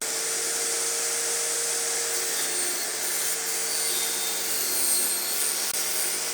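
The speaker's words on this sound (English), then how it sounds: "then we're ready to cut the boards" A table saw fitted with a taper jig cuts wooden boards for a hot tub seat, giving a continuous, fairly loud roar with a bright high whine that stays steady from start to finish, with no voices.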